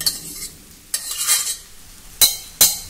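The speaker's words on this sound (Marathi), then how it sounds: "आता यामध्ये भात घालूया। भात व्यवस्थित मोकळा करून घाला।" Cooked rice being added to a frying pan and stirred, producing scraping and sizzling strokes with several sharp utensil scrapes against the pan, close and fairly loud, with no talk.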